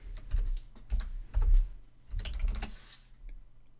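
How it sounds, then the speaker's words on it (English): Computer keyboard keys clatter in short clustered bursts while entering measurements in 3D modeling software, close and fairly quiet, with brief pauses between the groups of keystrokes. "just typing that and hitting enter"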